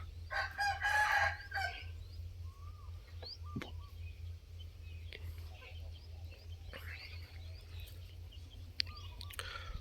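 A rooster of the Phanat fighting-chicken breed crows once near the start, loud and close, followed by quieter clucks and scattered bird calls over a steady low rural background.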